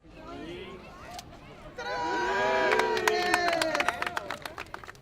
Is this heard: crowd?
yes